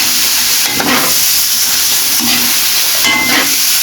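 Garlic frying in butter for garlic shrimp gives a steady, close sizzle and hiss with no break, swelling slightly in a few spots.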